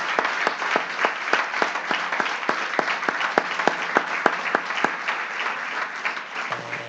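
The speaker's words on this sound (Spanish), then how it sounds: "Démosle un aplauso al Señor." Members of a Spanish-speaking church congregation at a Sunday service applaud together, a continuous layer of clapping punctuated by crisp rhythmic unison claps at a regular beat, fairly full and without speech.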